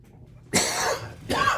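Two sharp coughs, the first longer and rougher, the second a shorter burst after a brief pause, close and loud against a quiet background.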